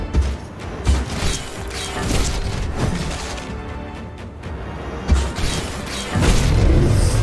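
Explosions go off one after another in the video game Eldest Souls, heavy booms and crashes layered over clanking mechanical game noise, loud and dense throughout.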